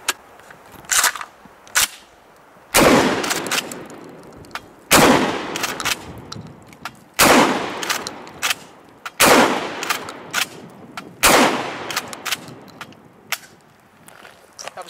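Ten rounds from a Kel-Tec KSG 12 gauge pump shotgun fired at an outdoor range, loud sharp booms with echoing tails and pauses of a second or two between some shots, other shots coming closer together.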